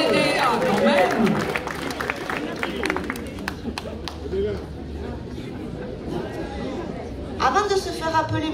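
An audience at the Tarbes Super Mamie 65 contest applauds a man named Dédé, clapping and chatter rising briefly at the start and again near the end, with crowd babble and voices throughout.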